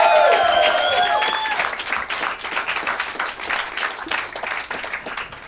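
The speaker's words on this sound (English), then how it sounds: "Keep it going for Drew Lynch" Studio audience at a stand-up comedy show breaks into loud, sustained applause with some cheering, the clapping thinning a little toward the end.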